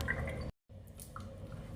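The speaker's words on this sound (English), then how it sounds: "Rinse with warm water. And cleanse." Warm water splashing and dripping during a face rinse, with soft wet squishes and drips close by, cut by a brief silence partway through.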